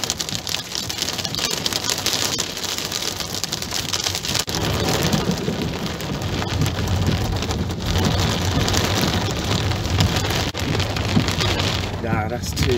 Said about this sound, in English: That's hailstones